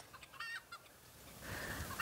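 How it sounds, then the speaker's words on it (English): Backyard chickens cluck and squawk in short bursts close by, with a louder, busier flurry of hen calls building toward the end over faint outdoor noise. "I don't know what is going on with my chickens"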